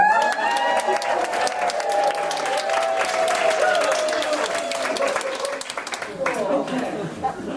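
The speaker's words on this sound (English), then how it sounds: "Thank you for your kind applause before I even do anything" An audience applauds warmly as a speaker is introduced, dense sustained clapping filling the room while a voice talks over it, then the applause thins and fades near the end.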